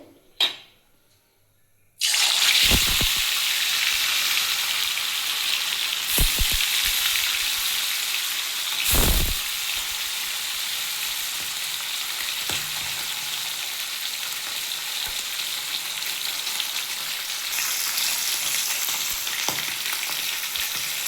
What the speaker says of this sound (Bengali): এবার মাছগুলো ভেজে নেবো এতে